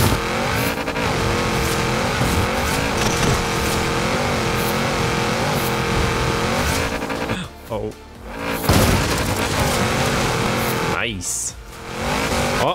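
A race car engine in the video game Forza Horizon 4 revs loud and sustained with shifting pitch, cutting out and dipping twice near the end, with someone talking over it.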